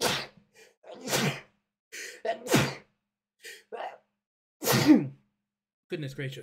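A single sharp sneeze rings out among scattered short bursts of casual talk during a Pixelmon Reforged gameplay session, with quiet gaps between the sounds.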